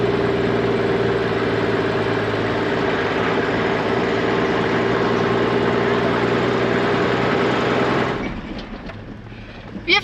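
An offroad camper's engine drones steadily while driving into a campsite in Uganda, a loud continuous hum that fades down toward the end, leaving quieter background and a brief knock.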